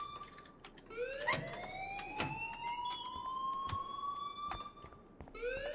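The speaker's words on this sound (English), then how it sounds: "please turn off that alarm since that's your job" A school alarm rings in the Life Is Strange game, sounding as a rising, wailing electronic tone that repeats in loud sweeps, with sharp clicks and knocks breaking in along the way.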